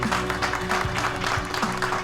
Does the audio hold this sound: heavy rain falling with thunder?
no